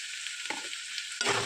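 Drumstick flower curry frying in a pan, a quiet steady sizzle with two brief close scrapes of stirring, the second louder.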